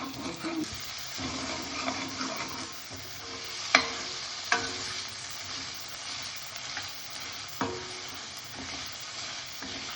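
Garlic and masala frying in a pan with mushrooms and peas nearby, a continuous close sizzle with occasional scrapes and clinks of the stirring spoon, no talk over it.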